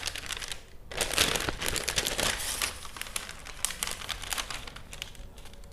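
A paper circle-skirt pattern is folded into layers, producing close crinkling and rustling that rise and fall in bursts, with crisp sharp creases and a brief pause near the start.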